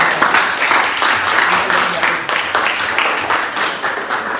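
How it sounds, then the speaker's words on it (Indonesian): A classroom group gets applause during an academic coaching session: dense, steady clapping from a room of people, fairly close and continuous, with voices mixed in. "Beri tepuk tangan dulu untuk kelompok."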